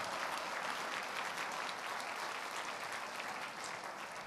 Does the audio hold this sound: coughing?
no